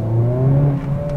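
Honda Civic Type R FL with an upgraded exhaust, stock catalytic converter and stock downpipe, revving steadily up close in a short, loud, continuous engine drone with a slowly rising pitch.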